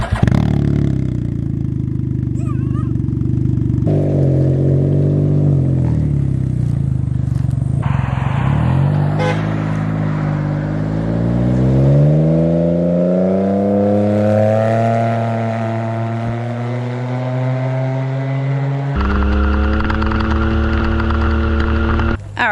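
A Can-Am Ryker 900 three-wheel motorcycle pulls away, its engine loud and close, revving up through rising gear pulls with shifts between them.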